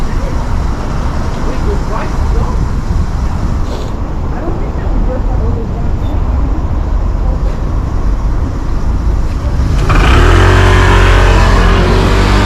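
A car engine accelerating hard in a race leaving a morning car meet, a steady loud roar with wind buffeting that swells and grows harsher toward the end.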